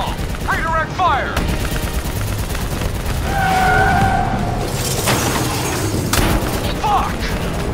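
Gunfire in the video game Call of Duty Black Ops 3, loud rapid bursts and crackling shots with explosions and vehicle noise in a dense battle mix, soldiers' shouted voices over the combat.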